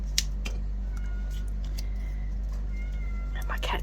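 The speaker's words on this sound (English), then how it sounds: "And my cat could hear me talking, so she's now out the front meowing." A pet cat meows outside at the front of the house, a few faint, short calls from some distance over a steady low hum indoors.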